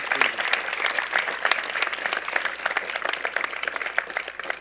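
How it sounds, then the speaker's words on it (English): An audience applauds warmly during a university convocation ceremony at Trent University, with dense, continuous clapping from a large crowd that stays steady and loud throughout. "Please, a warm round of applause for Stephen Kiley."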